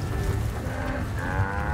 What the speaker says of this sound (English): They're running towards me. We're in the middle of the cows.